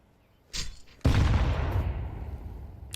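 Pistol fire in a Counter-Strike 2 match: a sharp shot, then a heavier loud blast at about one second that trails off into a lingering rumble.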